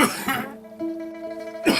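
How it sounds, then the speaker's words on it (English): A person with pharyngitis coughs and clears the throat: a harsh burst, then a strained, tonal wheezing drag, ending in another rough cough, close and fairly loud. "I started coughing non-stop and not being able to talk at all."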